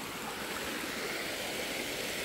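Clear water of a creek running past a riverside lot in Inabanga, Bohol, Philippines, a steady, broad rushing wash that fills the whole stretch without pause.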